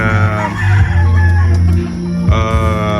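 Gamefowl stags, roundheads and yellow-legged Dutch, crow loudly and close by, with harmonic calls overlapping in quick succession and a fresh crow breaking in near the end, no speech.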